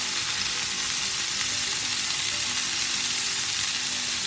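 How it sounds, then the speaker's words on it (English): Chicken seasoned with salt, pepper, garlic and chili flakes fries in a pan, giving a steady, close, even sizzle with no pauses for the whole stretch. "So I will cook the chicken completely in the pan"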